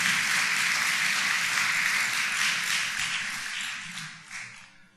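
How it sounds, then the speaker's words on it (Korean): A church congregation claps loudly for its medal winners: thick, close applause from many hands that holds steady, then thins and fades out toward the end. "우리 메달 따온 분들을 향해서 또 한번 박수를 한번 해주시기 바랍니다"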